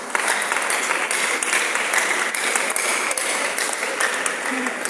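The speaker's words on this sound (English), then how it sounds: "Clap your hands." Audience at a Society of Women Accountants of Nigeria event clapping hands in a steady, dense wash of applause that fills the room, with individual claps spiking through and a voice faintly underneath.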